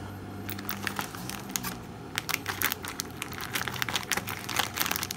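Roasted beef flavor instant noodle packaging is torn open and handled, giving close, irregular crinkling and crackling of plastic in quick bursts that grow busier toward the end.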